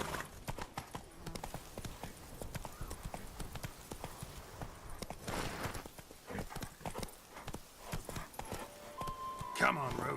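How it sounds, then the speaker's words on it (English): Horse galloping in the video game The Witcher 3, rapid rhythmic hoofbeats throughout, with a neigh and game sounds near the end and a voice calling out at times. "Run, Roach."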